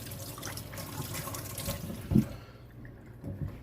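Kitchen tap running steadily while raw chicken breasts are rinsed, a close splashing wash that stops partway through, leaving a quiet room.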